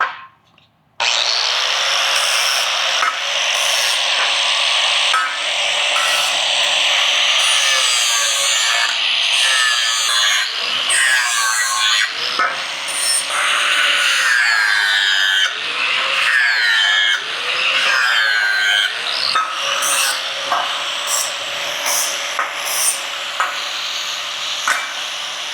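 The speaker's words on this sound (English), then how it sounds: "clean up our sharp edges and bevel this inside seam here so that we can get a nice weld on the inside" A power tool grinds and bevels sharp steel edges and an inside seam to prep them for welding, a loud, steady, abrasive whine running nearly the whole time with shifting pitch sweeps as the tool works the metal.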